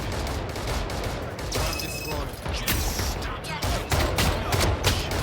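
Gunfire in an online shooter game, rapid overlapping bursts of loud shots that are dense and near, running continuously across the clip.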